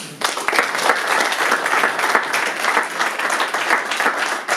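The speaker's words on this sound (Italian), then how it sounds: "vi chiedo di fare un applauso" Audience applause fills a hall at an Italian talk on screenwriting, a steady dense patter of many hands clapping close by for the full stretch without talk.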